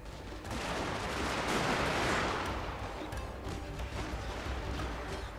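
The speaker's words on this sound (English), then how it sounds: "Couple of bullets just ricocheting right off next to us." Gunfire crackles in Shogun 2: Fall of the Samurai, dense volleys of musket shots with bullets ricocheting nearby, loud and continuous, swelling in the middle before easing into scattered cracks.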